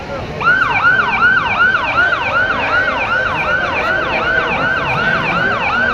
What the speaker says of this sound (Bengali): আমাদের ফায়ার সার্ভিসের গাড়ি আসতেছে আমাদেরকে সহযোগিতা করার জন্য